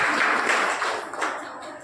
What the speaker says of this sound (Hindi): जोरदार तालियां आप बजाइए माननीय